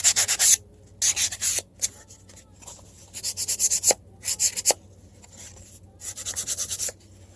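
A file rasps across foam board to give it a wood look, in close bursts of quick back-and-forth strokes separated by short pauses and a few light taps.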